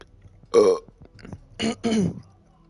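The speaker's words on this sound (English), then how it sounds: "Just now I was burping, don't worry." Two loud, throaty burps close to the microphone, the second longer and split into two swells, against a quiet background.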